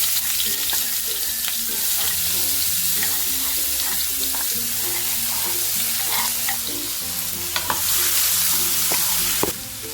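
Spiced matki (moth bean) curry with coriander powder and garam masala sautés in a pan with a loud continuous sizzle, a spoon scraping and stirring in uneven strokes throughout.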